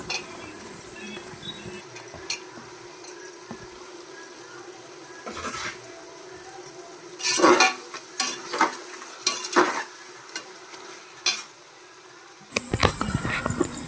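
Carrot, beans and potato frying in a pan are stirred, with a soft background sizzle broken by several sharp scraping clatters of a utensil against the pan, fairly quiet and without talk.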